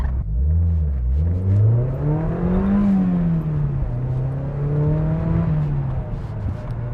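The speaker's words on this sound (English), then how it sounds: "You get way more pops and burbles pretty much with like every upshift" A Mazda NC Miata with a Goodwin header and muffler gives a loud, close exhaust note that climbs, dips and settles into a steady drone through about seven seconds, with no distinct pops standing out.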